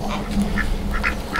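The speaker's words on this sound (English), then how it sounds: "now the geese are coming" Geese honking from a flock gathered around farm pools, a few short nasal calls repeating at moderate distance over a steady low background hum.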